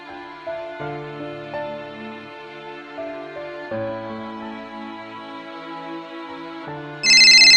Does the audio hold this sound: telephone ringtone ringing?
yes